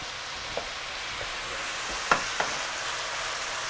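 Sweet sausage browning in a pan for a ragu, giving a steady low sizzle with a few faint pops and clicks from stirring, close and fairly quiet.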